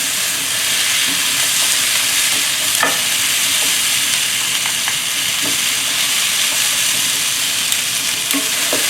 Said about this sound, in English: I'm just gonna keep stir fry.